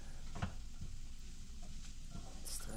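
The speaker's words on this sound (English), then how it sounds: "Stirring." Food sizzles steadily in a frying pan while a utensil stirs and scrapes through it in a few soft knocks, close up with no voices.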